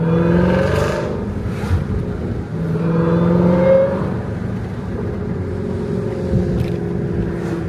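Dodge Durango Hellcat with a forged carbon fiber intake pulling through third and fourth gear, a steady engine roar topped by a rising and falling supercharger whine, heard from inside the cabin.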